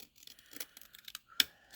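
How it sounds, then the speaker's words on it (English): Quiet snipping and crinkling of paper being cut by hand with scissors for decorative rosettes, a series of small soft crunches ending in one sharper snip. "Anytime you're cutting by hand, no matter what your scissors are"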